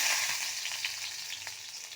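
Garlic sizzles in hot oil in a wok: a continuous bright crackle with scattered pops, close up and steady throughout.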